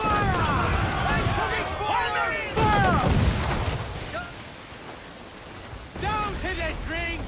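Ship cannons firing in a naval battle in Assassin's Creed IV Black Flag, heavy booming blasts amid crashing waves and battle noise, with shouted voices over the top.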